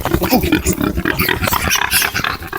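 Loud, harsh grunts and growling snorts of an angry sow in rapid succession, close by and agitated, continuing without pause.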